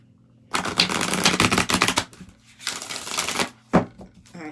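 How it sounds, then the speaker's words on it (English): Two bursts of crisp, rapid card riffling, each lasting a second or two, followed by a short sharp tap, close and fairly loud with no talking. "Let me give it one more shuffle."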